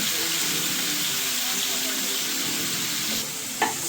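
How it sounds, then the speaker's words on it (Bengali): Washed, cut bottle gourd (lau) frying in hot oil for a Bengali lau chingri dish, giving a steady, close, dense sizzle that runs throughout, with a brief utensil clink near the end. "তো আমার এই ধুয়ে কেটে রাখা লাউ দিয়ে দেবো তেলের মধ্যে"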